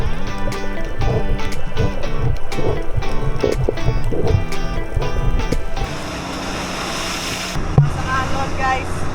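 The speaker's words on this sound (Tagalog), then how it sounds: "sobrang lakas ng alon" Strong waves slosh and surge against a boat at sea near Apo Reef, a loud, continuous churning wash of water that thins to a softer hiss partway through, with a sharp slap near the end.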